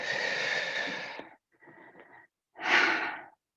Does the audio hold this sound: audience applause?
no